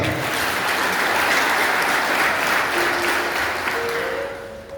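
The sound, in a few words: applause for the Lord in a church service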